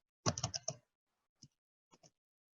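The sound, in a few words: typing an email address on a computer keyboard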